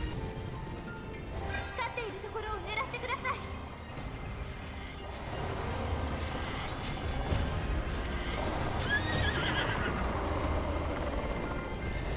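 Horse whinnying and clip-clopping hooves in Zelda: Breath of the Wild, a few short neighs over steady trotting, with someone talking over much of it.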